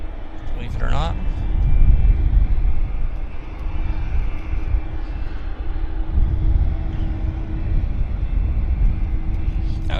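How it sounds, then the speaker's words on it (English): An Air Canada jet taxis out at Vancouver Airport, a steady broad engine rumble and whine holding throughout, with a voice talking over it briefly. "This is the Air Canada 882 to Zurich, taxiing out right there."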